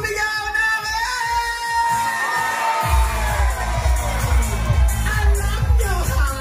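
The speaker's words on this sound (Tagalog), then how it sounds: "Sabay-sabay itaas ang ating mga kamay at sumigaw namin!" A large outdoor rally crowd in Dagupan shouts and cheers together loudly, a sustained roar of many voices with whoops, swelling over a steady thumping beat of music.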